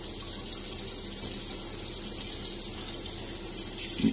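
Tap water running steadily into a sink while a razor is rinsed after shaving, a continuous close hiss and splash.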